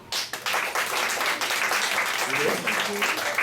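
Audience applause and clapping at a French-language stand-up comedy show, loud and continuous throughout, with crowd voices mixed in.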